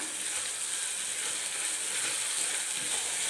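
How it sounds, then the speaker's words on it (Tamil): Crushed ginger and garlic sautéing in oil with onions for a pepper meat curry, a constant hissing sizzle with a faint soft stir near the end, close and steady with no speech. "வெங்காயத்தில் சேர்த்துக்கிறேன் இஞ்சி பூண்டை இந்த பச்சை வாசனை போகிற வெளில எண்ணெயிலே வதக்கிடலாம்"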